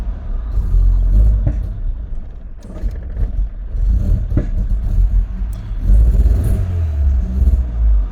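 A Rover 820 car engine turns over and catches, then falters and surges unevenly in rough, loud low rumbles with dips between bursts. No voices.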